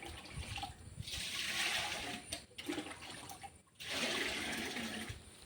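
Homemade liquid fertilizer made from rice and ash is poured onto chilli and bean plants in a garden, giving two steady watery gushes separated by a short pause, with no one talking.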